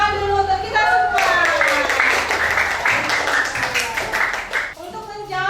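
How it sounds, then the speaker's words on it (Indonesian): Classroom of children clapping their hands together, a dense burst of rapid claps for several seconds, close and loud, with an adult voice speaking just before and after. "Tepuk tangan dulu untuk kita semua."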